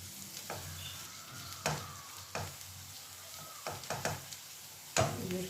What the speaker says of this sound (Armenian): տապակվի,